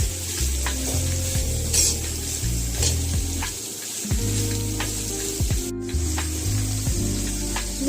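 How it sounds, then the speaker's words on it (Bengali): Onions frying in a pan for an egg vegetable chow, a continuous close hiss and sizzle with occasional clinks of utensils throughout. "তারপর আমি পেঁয়াজগুলোকে ভালোভাবে ভেজে নিচ্ছি"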